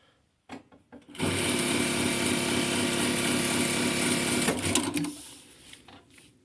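A JUKI 8000C sewing machine stitches a pre-programmed decorative pattern, a loud steady mechanical whir running about four seconds after a few light clicks, then stopping and trailing off into quiet handling noises.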